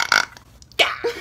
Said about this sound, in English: The way you burp.